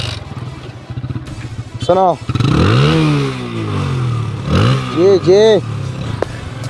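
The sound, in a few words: TVS Apache 2V motorcycle starting and revving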